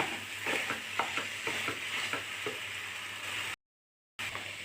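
Ripe bananas being stirred and mashed in a hot pan for pazham pori filling, with soft repeated scraping and squishing strokes in an irregular rhythm over a steady low sizzle, close and moderately loud, broken by a brief silent gap.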